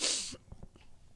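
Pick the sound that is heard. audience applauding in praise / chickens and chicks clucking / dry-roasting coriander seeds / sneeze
sneeze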